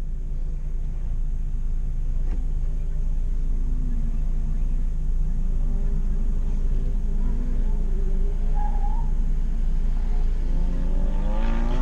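Infiniti G20t on the road, a steady low engine and tire rumble running throughout at constant loudness, with a faint rising engine whine late on.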